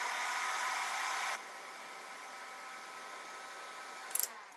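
Heat tool blowing a steady broadband hiss while warming the joints of WoodUbend trim pieces, loud at first, then softer and continuing steadily, with a few faint clicks near the end.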